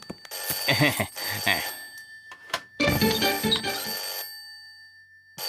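A telephone rings indoors in a hotel deluxe room in two long trilling bursts separated by a short pause, loud and close, and it stops near the end.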